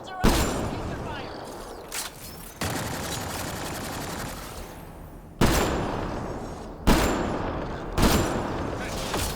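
Enemy gunfire in Mass Effect: Andromeda: loud, dense bursts of shooting crack in and sustain for a second or two each, returning several times in a chaotic fusillade across the stretch.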